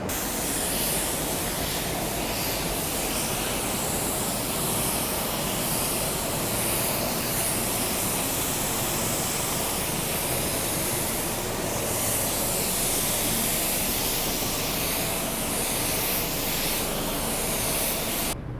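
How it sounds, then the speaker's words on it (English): Spray gun laying down a second coat of clear on a car, a steady, loud, unbroken hiss of atomized clear coat that runs without pause from start to end. "Let's lay down that second coat of clear and then we'll show you the process of cleaning out that clear coat gun."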